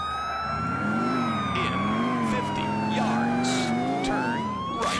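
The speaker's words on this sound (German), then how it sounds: "Aber irgendwie muss ich doch diese dämliche Sirene ausstellen können." A wailing vehicle siren in the video game GTA IV: The Lost and Damned, rising and falling steadily and loud over engine rumble, with someone speaking briefly beneath it.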